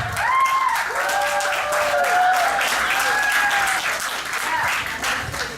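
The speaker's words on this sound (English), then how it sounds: "let's just give them a round of applause real quick" Loud, steady applause from a crowd at a Sonic fan convention fills the space, with a few whoops and cheers rising above the continuous clapping.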